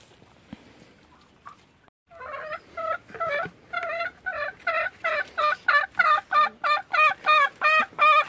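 Domestic free-range chickens in a coop during egg collection, with a quiet start followed by a rapid run of loud, regular calls, about a dozen evenly spaced bursts close by, growing stronger toward the end.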